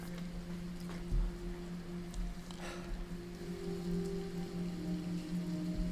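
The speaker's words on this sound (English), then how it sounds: "It's a rainy night." Steady rain falling on a city at night, a soft continuous patter and wash with a low background hum and a few faint knocks, no voices.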